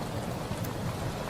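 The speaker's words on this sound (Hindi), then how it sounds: "और जोरों से बारिश शुरू हो गई" Heavy rain begins as a storm sound effect in an audio drama: a dense, steady broadband wash of downpour, loud and close, with no voices.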